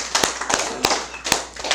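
Scattered, uneven handclaps from an audience at a Korean Buddhist Seon dharma service, a handful of sharp, close claps at irregular intervals with no cheering.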